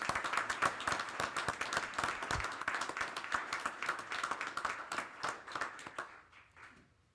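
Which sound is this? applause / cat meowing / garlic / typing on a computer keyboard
applause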